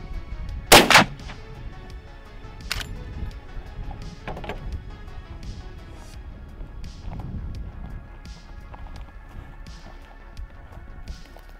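A lever action rifle fires one sharp, loud shot into a pork shoulder, followed by fainter clicks and handling noises as the action is worked, with some quiet voices in the background.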